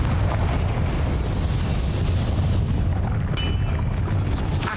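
Confringo blasting spell explosion in Hogwarts Legacy, a dense, loud, sustained roaring blast with continuous rumble and crackle throughout, and brief bright chimes near the end.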